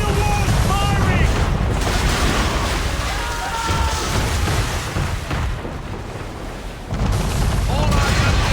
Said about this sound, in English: Man of war's firing!